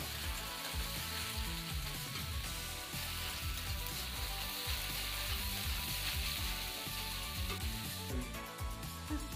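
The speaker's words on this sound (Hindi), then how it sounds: "बाकी सभी पत्ता गोभी को हम एक साथ डाल देते हैं। और इसे थोड़ा हम फुल फ्लेम पे भूनेंगे" Shredded cabbage stir-frying over full flame for chowmein, a loud continuous sizzle with scraping stirs throughout, steady and close with no talk.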